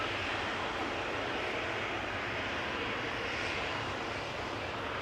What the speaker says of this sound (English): Which is an Embraer 195.